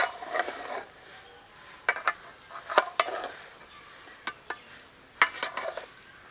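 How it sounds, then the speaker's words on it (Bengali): Chicken dum biryani being gently stirred in a pot, with scattered light metallic scrapes and clinks over a soft background hiss, close but fairly quiet. "এখন হালকা করে নেড়ে দেব যাতে সমস্ত কিছু ভালো করে মিশে যায়"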